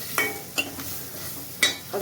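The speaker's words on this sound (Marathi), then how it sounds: "या कांद्यातनं तेल सुटेपर्यंत ढवळायचं." Onions cooking with Malvani masala in a pot give a low background sizzle, punctuated by four distinct scraping clacks of a spoon stirring against the pot, close and unvoiced.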